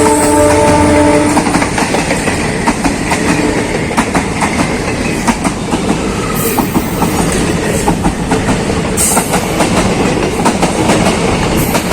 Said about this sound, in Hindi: एक और ट्रेन आ रही है